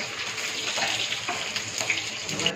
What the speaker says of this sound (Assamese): চিকেনখিনি কেৰাহীত দি দিলোঁ